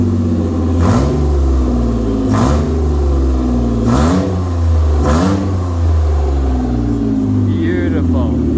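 Ford Mondeo ST200 engine revved repeatedly: four distinct rising blips over a steady, smooth idle, close and loud, with a faint voice near the end.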